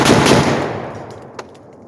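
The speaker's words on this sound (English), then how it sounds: "pay attention to the muzzle blast on this thing" A Zastava PAP M92 AK-style pistol with a 10-inch barrel fires a single loud, close gunshot with a heavy muzzle blast that decays into a fading echo, followed by a faint metallic clink.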